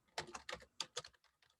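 Quiet typing on a computer keyboard, a short flurry of close key clicks in two small bursts, then fainter taps trailing off.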